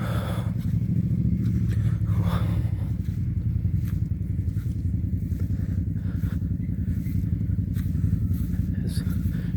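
Six or seven motorcycles arrive outside Église St-Raphaël, their engines a continuous, fairly close rumble with occasional revs and no talk over it.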